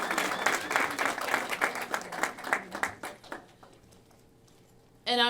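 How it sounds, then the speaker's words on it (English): A crowd at an open house for a city office claps warmly for the staff, loud and dense at first, then thinning into scattered claps and fading, before a brief burst of noise at the end. "Let's give all of our staff here a big round of applause."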